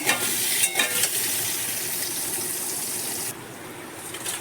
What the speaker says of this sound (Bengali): তার মধ্যে আলুগুলো দিয়ে ভেজে নেবে